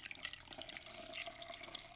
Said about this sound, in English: So now I'm gonna pour my blended solution down into